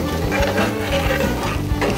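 Garlic being stirred into a gumbo pot over a roux, a steady close scraping and churning with a continuous low sizzle underneath, loud and busy throughout.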